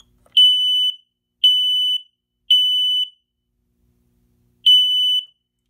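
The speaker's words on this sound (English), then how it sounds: "Next, we're going to test the spoke detector by just clicking the button." A System Sensor smoke detector sounding its test alarm, four loud, piercing electronic beeps, the first three evenly spaced and the fourth after a longer pause, close and isolated in a quiet room.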